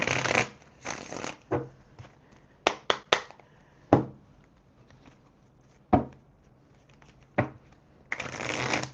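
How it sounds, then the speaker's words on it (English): Tarot cards are shuffled up close: riffles and rustling bursts at the start and end, with sharp slaps and taps between and quiet gaps. "Let me shuffle these cards up good so I can give you this good reading"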